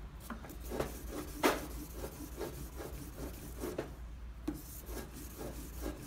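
400-grit sandpaper rubs steadily against a sterling silver 925 ring, making a close, quiet, rhythmic rasping of back-and-forth strokes at an even pace with no voices.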